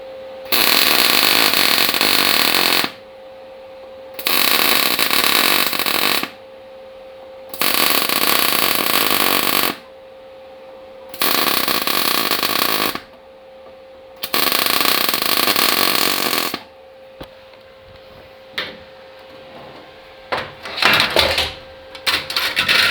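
Five short bursts of MIG spot welding, each a loud broadband crackling buzz about two to three seconds long, separated by brief pauses with a steady hum; a few faint clicks and clatters follow at the end.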